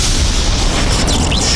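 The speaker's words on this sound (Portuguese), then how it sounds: "Explodiu." A loud, rumbling explosion in a scene from the Brazilian film "Silvio Santos Vem Aí", with a deep low boom that stays strong for the whole moment and a hissing burst of debris above it, heard alone without any voices.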